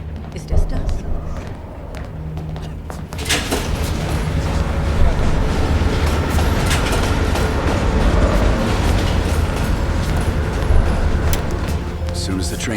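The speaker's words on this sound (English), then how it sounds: "Train's slowing down." Moving train in the video game Call of Duty: Black Ops Cold War, a loud continuous rumble and rattle of rolling carriages with sharp clanks, building after a quieter start, while voices talk over it.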